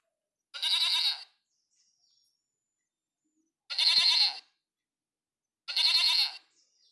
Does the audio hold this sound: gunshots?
no